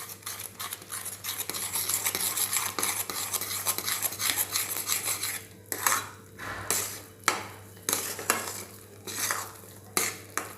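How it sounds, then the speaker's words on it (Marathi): Gram flour batter is stirred quickly in a pan with a spoon, giving brisk scraping and clinking strokes against the metal over a soft sizzle. The strokes turn into distinct rhythmic pulses in the second half, close up, with no voices. "आता पीठ टाकल्यानंतर पटापट याला हलवायचं"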